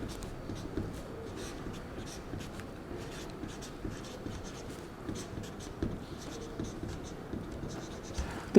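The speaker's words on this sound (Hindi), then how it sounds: "तो हम लोग डिफ्रेंशिएशन का लिखते हैं।" Pen writing differentiation formulas on paper or a board during a calculus lesson, as a close, quiet run of scratchy strokes and taps over a faint background.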